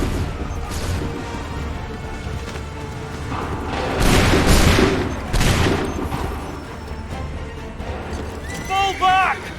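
A musket volley in Assassin's Creed III booms out among horse hooves and whinnies, with loud blasts around the middle rising over a busy battlefield backdrop where voices are also heard.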